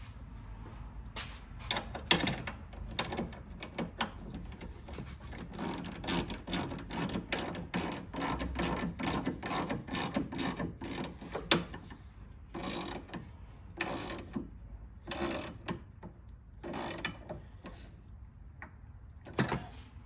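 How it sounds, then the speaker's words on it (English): A ratchet with a 14mm socket snugs strut brace bolts on a Toyota Corolla hatchback (E210), giving close runs of rapid mechanical clicking between pauses over about twenty seconds. "ratchet and 14mm socket. Just snug it."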